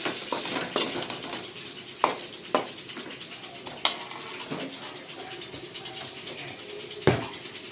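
Chicken and spices get stirred in a frying pan with tomato pieces, with a steady soft sizzle and sharp, irregular scrapes and clinks of a utensil against the pan.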